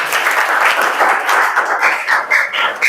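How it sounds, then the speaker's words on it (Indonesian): A classroom audience claps together in sustained applause, dense and steady for the full stretch with a few louder swells near the end. "beri tepuk tangan dulu untuk kita semua."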